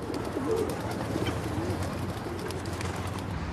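Pigeons in Athens coo in soft, repeated low calls against a busy outdoor background of city noise, steady and moderately near.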